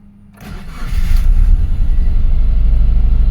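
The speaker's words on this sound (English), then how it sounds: "we're going to start the car, let it run for a very short time, put it off" A 2004 Subaru Forester with low power cranks and fires up after a quiet moment, then settles into a loud, steady idle close by.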